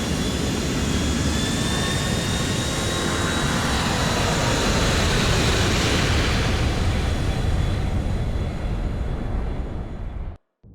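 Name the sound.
Bulgarin's plane taking off, from video game Grand Theft Auto IV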